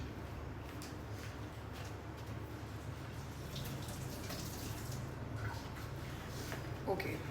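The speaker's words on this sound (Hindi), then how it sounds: "मैं हाथ धो लूँ" Hands being washed under a running tap in a home kitchen while baking brownies, a steady soft rush of water with faint splashes and a voice murmuring in the background.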